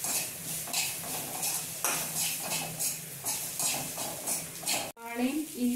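Onion and ginger sautéing in a pan, a soft steady sizzle with rhythmic scraping stirs of a spoon against the pan, ending in a brief cut and a voice.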